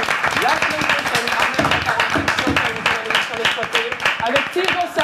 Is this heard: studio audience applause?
yes